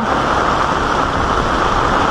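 Floodwater of the Marikina River at a third-alarm level rushes past as a loud, steady roar of churning water, continuous and close with no break.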